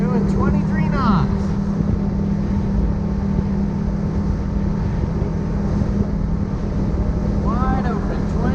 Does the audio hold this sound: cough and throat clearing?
no